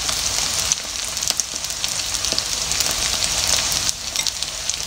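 Sticky rice dipped in egg frying in a pan sends up a constant loud sizzle with crackling pops, close up and with no voices.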